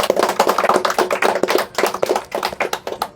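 A small audience at a discussion claps, a sparse, uneven run of distinct sharp hand claps close by, each one audible on its own rather than blending into a wash.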